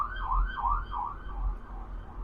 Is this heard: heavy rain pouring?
no